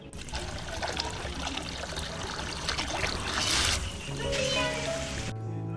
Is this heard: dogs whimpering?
no